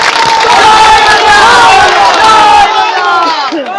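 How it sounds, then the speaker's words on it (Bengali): A large crowd at a political gathering bursts into loud, close cheering and shouting for several seconds before it fades out abruptly. "যতজন আছে সবাই মিলে একটা করতালি"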